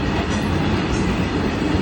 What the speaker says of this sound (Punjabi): ਰੇਲ ਗੱਡੀ ਦੇ ਨਾ ਟੱਪੇ ਗਿਣ ਕੇ ਦਿਖਾਓ ਵੀ ਟੱਪੇ ਕਿੰਨੇ ਲੱਗੇ ਹੋਏ ਨੇ ਰੇਲ ਗੱਡੀ ਦੇ ਨਾਲ